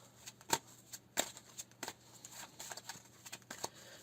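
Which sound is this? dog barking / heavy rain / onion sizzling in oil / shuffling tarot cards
shuffling tarot cards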